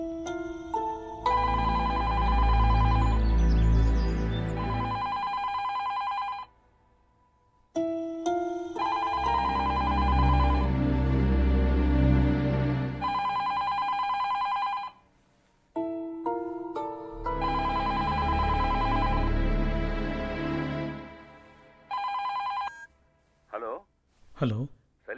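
A telephone rings in three long, loud bursts of a melodic ring with short pauses between them, followed by a brief clipped sound at the end.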